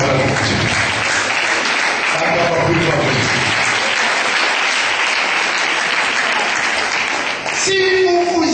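A church congregation at a sermon applauds loudly and steadily, dense clapping filling the room for several seconds, with voices cheering and calling out beneath it.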